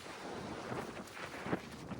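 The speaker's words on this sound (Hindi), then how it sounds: "इतनी हवा चल रही है" Strong wind buffets an outdoor microphone on a rainy day at a Maldives island resort, a steady rushing roar with gusts rising and falling across the two seconds and no talk.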